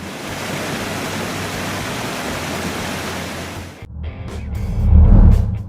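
Roar of one of the world's largest waterfalls, a loud steady rushing wash that breaks off and gives way to a deeper, gustier rumble near the end.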